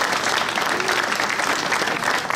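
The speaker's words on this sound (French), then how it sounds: "Voilà, et là, on peut applaudir." Loud, dense applause from a crowd at the inauguration of finished roadworks on a French street, a continuous close wash of clapping throughout.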